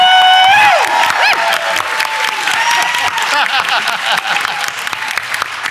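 An audience applauds and cheers for a contestant, with loud dense clapping that runs throughout, while a few voices call out and a sustained tone fades near the start.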